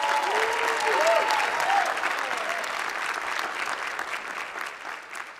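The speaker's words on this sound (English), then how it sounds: "Let's give them a round of applause." Audience applause fills a City of Destiny Awards ceremony after a youth leadership award is presented, steady and dense at first and then easing slightly, with a few faint whoops or voices over the clapping.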